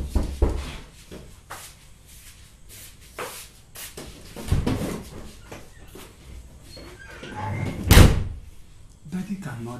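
A door is handled indoors: a few knocks and clunks with one louder bang near the end, scattered among shuffling and people talking throughout.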